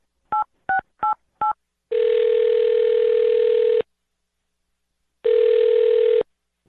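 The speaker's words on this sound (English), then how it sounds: "I'm going to dial her phone number right now" Four short touch-tone dialing beeps in quick succession, then two long, loud ringback tones separated by a pause as the call to a phone number connects; no talking.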